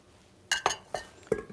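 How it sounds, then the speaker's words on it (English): Eggs poured into a bowl in a kitchen, heard as four short clinking, glassy taps close by, spaced unevenly over a quiet background. "put the eggs in the bowl, pour it in,"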